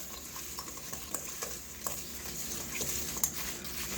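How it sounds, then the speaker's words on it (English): Apple crisp ingredients stirred together in a bowl with a utensil, soft repeated scraping and clinking strokes at an even pace, close but quiet, no talk. "I'm going to mix this together."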